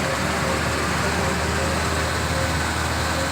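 A Daihatsu Grand Max pickup engine with black carbon buildup idles with a constant, rough drone, loud and close, with no break throughout.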